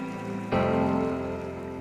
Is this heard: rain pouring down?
yes